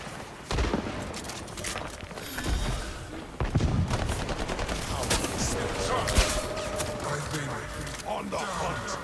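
Gunfire in the shooter game Highguard crackles in bursts throughout, with dense automatic fire and heavy thumps layered over game effects and occasional voice lines.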